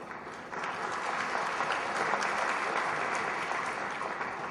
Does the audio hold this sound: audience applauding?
yes